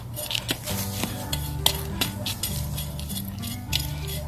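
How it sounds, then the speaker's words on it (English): Sand being stirred into compost for potting pineapple plants, a soft gritty scraping and rustling in short irregular strokes, close and fairly quiet, with no talking. "Just kind of mix it around."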